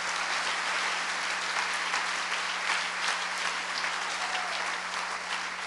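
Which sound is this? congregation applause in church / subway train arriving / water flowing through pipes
congregation applause in church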